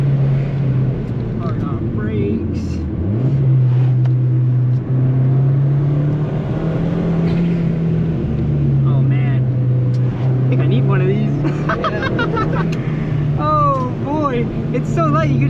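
A 2015 Fiat Abarth 500 with a manual gearbox drones and revs steadily as it drives, its pitch rising and falling, with wind noise and someone talking over it.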